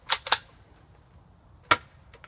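A cheap knock-off Nerf Mavericks foam dart blaster firing: two quick sharp clacks close together, a quiet pause, then one more crisp snap, all near and otherwise silent.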